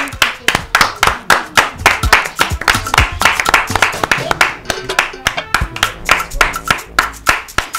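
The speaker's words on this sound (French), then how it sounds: "On les applaudit." A studio audience claps and applauds for two actors on a live TV talk show, a dense, steady run of hand claps that carries loud and close through the whole stretch, with a voice faintly mixed in beneath.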